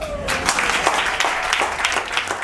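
Audience applause fills the room, a dense, steady burst of many hands clapping close by and holding at an even level.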